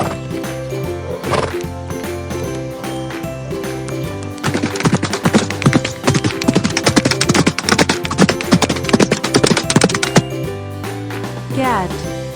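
A horse whinnies loudly near the start, then hooves clatter in a fast, dense gallop for several seconds before another neigh near the end. A voice speaks briefly at points.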